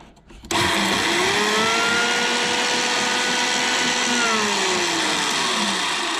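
An old Sunbeam 701 food mixer whirs up suddenly after a brief quiet start, then runs loud and steady with a droning motor whine that dips slightly in pitch, with no talking.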